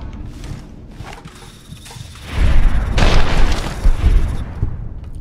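A caravan shotgun fires in a video game, bursting out as loud booming blasts after a quieter stretch, with heavy rumbling reports overlapping for a few seconds.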